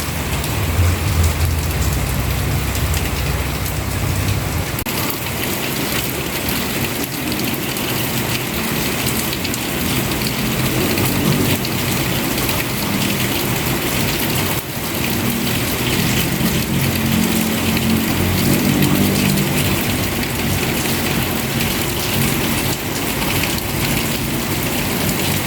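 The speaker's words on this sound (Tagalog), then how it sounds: "Parang maghapon na itong ganitong ulan. Hindi siya malakas eh." Steady rain falls continuously, a dense even patter with a faint low rumble underneath and no voices.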